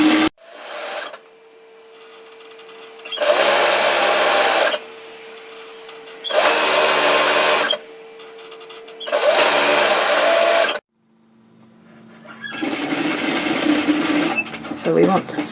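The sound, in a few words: sewing machine stitching woven fabric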